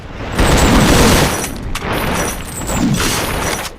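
A loud, roaring dynamite explosion in the video game The Suffering fills the clip with dense rumbling noise, swelling again in a second wave before slowly tailing off.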